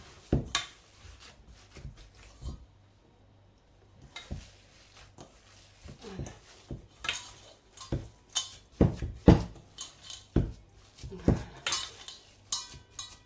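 A spoon scraping and clinking against a bowl while Makrout dough is mixed, a steady run of irregular close taps and scrapes with a short pause early on.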